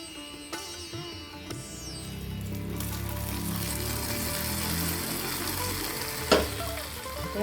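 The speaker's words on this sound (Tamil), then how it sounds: "நம்ம எடுத்து வச்சுருக்க முந்திரி பாதாம் இதெல்லாம் லைட்டாக ரோஸ்ட் பண்ணிவிட்டு இது அப்படியே அந்த கீர்னி பாயசத்தில் சேர்த்துக்குவோம்" Cashews and almonds sizzle as they roast lightly in ghee for rice kheerni payasam. A steady, close frying hiss runs throughout, with occasional stirring clinks and a sharper scrape near the end.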